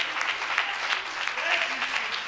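A church congregation claps in praise during a Sunday service, a steady, dense round of applause that fills the whole moment without pause.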